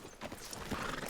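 Horse hooves clip-clop with a neigh in Red Dead Redemption 2, outside a sheriff's office in a western town, a steady busy clatter at moderate level throughout.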